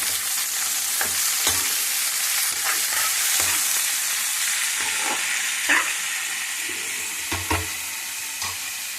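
Broad beans stir-fry in a pan for a garlic chilli fry. A continuous sizzle runs underneath while a utensil scrapes and clacks against the pan in irregular stirring strokes.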